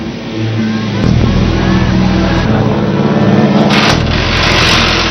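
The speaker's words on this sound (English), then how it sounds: "With a new batch of brake pads and his spare gearbox, Petter leaves just inside the 30-minute limit" A Subaru rally car pulls away from a WRC Rally Japan service stop with a steady, loud engine drone that rises as it moves off, mixed with a harmonic whine and background crowd noise, no clear talk.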